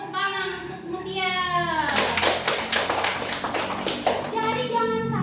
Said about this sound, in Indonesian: tepuk tangan untuk Mutia